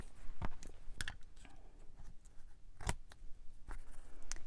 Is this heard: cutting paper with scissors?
yes